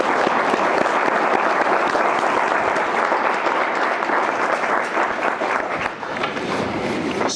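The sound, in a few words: audience applause at a conference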